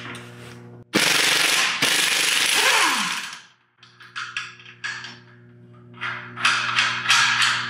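An air impact wrench on a nut or bolt in a metal fabrication shop hammers in reverse: a loud, close, dense rattling burst for about two seconds, then shorter intermittent bursts after a pause.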